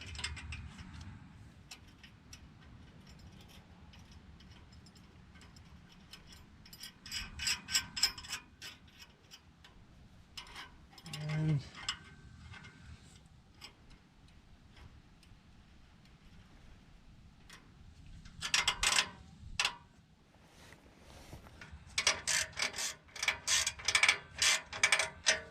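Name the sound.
ratchet tightening nuts on exhaust muffler clamp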